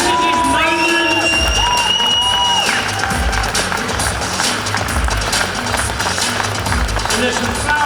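A crowd at a cycling time trial prize presentation applauds and cheers for a winner, sustained clapping and whoops around a room, with a voice talking over the applause.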